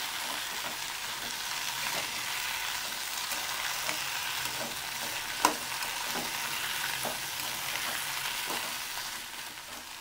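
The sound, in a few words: okra (lady's finger) pieces frying and being stirred in a pan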